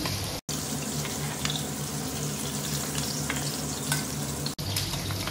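Fish frying in oil in a pan, a loud, continuous, crackling sizzle close by, broken briefly by two short gaps.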